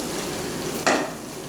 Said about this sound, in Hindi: सारा मसाला डाल के हम अच्छे से इसको ज़रा इतना भूनेंगे कि ये गोश्त में अच्छे से मिक्स हो जाए।